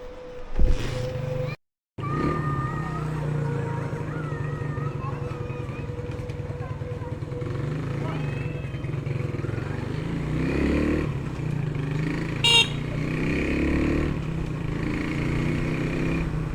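Modified EMA 100 motorcycle engine idling and revving in a steady low drone with a brief cutout near the start, wind buffeting the microphone, close and fairly loud.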